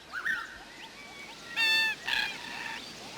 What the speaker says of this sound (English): Just ordinary cockatoos.